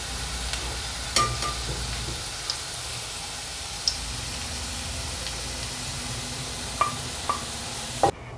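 Onions sautéing in a pan over a high flame for a roasted tomato thokku, a soft steady sizzle with occasional sharp ticks and clinks of stirring.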